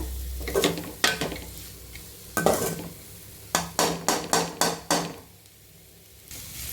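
Pasta being stirred in a pan with a utensil, heard as a run of distinct scraping knocks, several in quick succession, over a faint background sizzle, close and with no talk.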